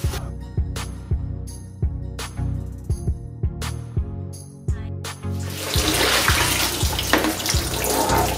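Tap water runs steadily into a sink while a greasy non-stick pan is washed, with regular knocks and clanks of the pan against the basin before the flow swells into a louder, fuller gush.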